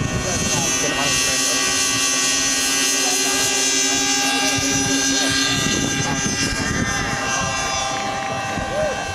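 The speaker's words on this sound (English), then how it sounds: "the beautiful harmonics of our unique twin-engine aircraft" Twin-engine model aircraft taking off at a competition on a windy day, its engines producing a loud sustained buzzing drone with layered harmonic tones, heard close and steady throughout.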